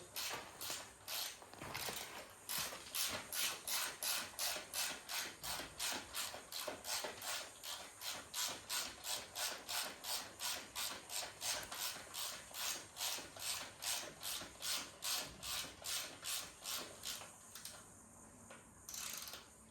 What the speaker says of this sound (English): We'll grab our 40mm spanner from the nut to hold it all in place.